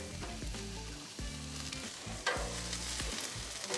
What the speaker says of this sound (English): We'll let these onions cook down,